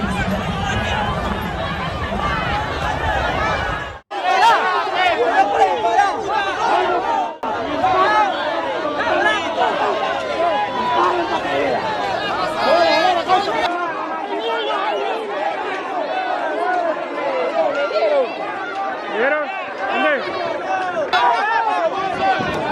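A large crowd of migrants at the border, a dense, excited chatter of many voices with shouts and calls, loud and continuous throughout.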